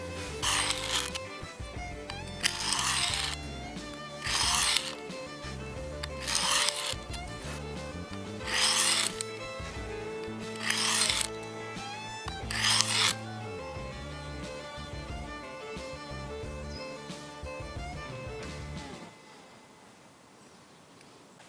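A knife blade is drawn across a field sharpening stone in regular rasping strokes, about seven evenly spaced scrapes over a steady background, then the strokes stop and it falls quieter.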